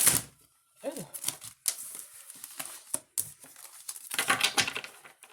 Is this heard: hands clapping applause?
no